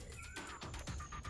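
A cat meows faintly in the background during a game or exploration scene, a couple of thin, drawn-out cries heard at a distance over a low steady hum.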